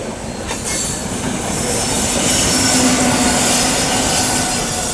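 A long train rolls past loudly and steadily with banker locomotives attached, its wheels squealing and clattering in a continuous rumble on the ghat section near Kasara.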